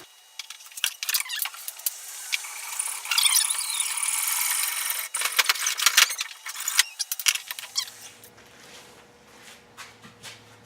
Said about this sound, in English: now that we've got our holes drilled in our cross member supports